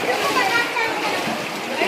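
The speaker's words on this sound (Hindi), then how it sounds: "कहाँ से निकल रहा है पानी" Water pours and splashes out of the rock inside Robbers Cave in Dehradun, a constant nearby rushing splatter with people talking over it.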